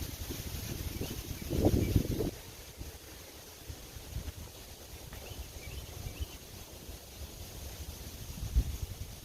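Strong wind buffets the microphone on an outdoor disc golf course, a low rumbling roar with a heavy gust early on and smaller surges later.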